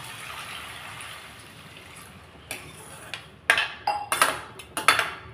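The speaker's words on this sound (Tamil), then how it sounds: "இதில் நல்லா 1 டம்ளர் வந்து தண்ணி சேர்த்திக்கலாம்." Water from a tumbler is poured into a pan of ghee-roasted flattened rice (aval), giving a soft splashy rush and a few sharp clinks and sloshes near the end.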